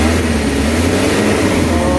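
A Kia Bongo engine idling and running steadily after a fuel saver treatment, a continuous low rumble with a firm hum, close and constant with no speech.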